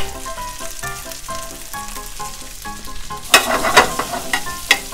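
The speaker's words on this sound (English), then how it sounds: "Do not want this to burn as well, so we're gonna quickly add our truffle potato chip gnocchi." Truffle potato chip gnocchi dropped into a hot pan, a soft sizzle that swells into louder crackling bursts as the pan is stirred and the gnocchi tossed.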